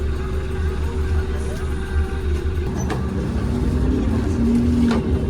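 A premium intercity bus pulls away from its stop at Majenang heading for Jakarta, its engine droning steadily with a low rumble and a rising tone near the end, heard from inside the cabin with faint voices in the background.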